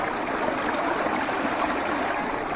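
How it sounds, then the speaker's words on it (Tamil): A fast-flowing stream beside the Parvathamalai hill trail rushes steadily and close, in a dense, continuous wash of water with no voices over it. "இங்கே பாருங்க மக்களே, வேற லெவலில் போயிட்டு இருக்குதுங்க தண்ணி."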